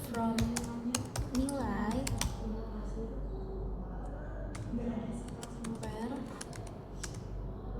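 Rapid, uneven clatter of keys on a computer keyboard, typed in bursts while entering a database query, continuing under a person's steady explanatory talk.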